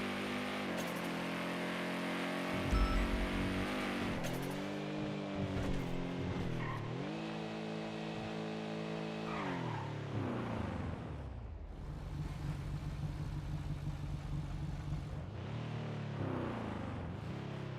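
A car in a GTA video game engine drones with a steady, strained tone that swells and sags, then drops into a lower, rougher rumble as if stalling despite the throttle, with no voices.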